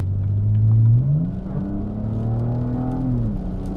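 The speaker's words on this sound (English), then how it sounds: "we'll go do a highway pull." BMW with an N52 engine, 66,000 miles, accelerating hard on a rainy highway, heard from inside: a loud steady engine drone that climbs in pitch, drops at a gear shift near one second, then climbs again before another shift.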